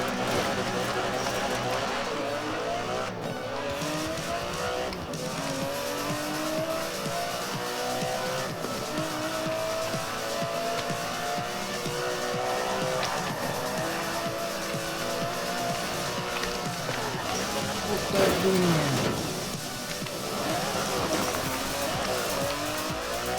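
Aston Martin DB11 in Forza Horizon 4, a steady engine note with rising and falling gear sweeps and a brief tire squeal near the end, loud and continuous throughout.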